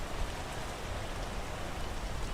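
Even, dense rainfall in the video game PEAK, a continuous close hiss of drops on surfaces with no voices over it.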